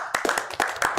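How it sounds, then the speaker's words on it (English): A short golf clap at a city council meeting: a handful of soft, sparse hand claps in an uneven rhythm, close and fairly quiet, with no talking over them. "I'd say we give a golf clap to Steve"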